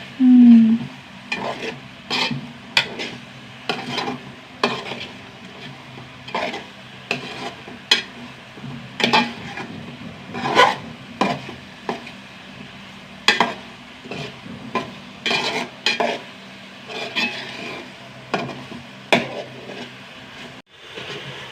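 Ingredients sauté in a pan while a spoon scrapes and knocks through them, repeated close scraping strokes in a fairly regular rhythm over a low sizzle, with no talking.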